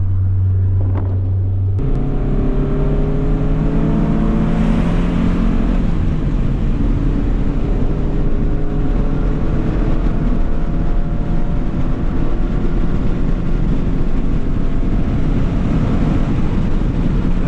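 BMW E30 M3 race car lapping Istanbul Park, a loud sustained engine roar that climbs and shifts in pitch through the gears, heard from on board with heavy wind rush and no voices.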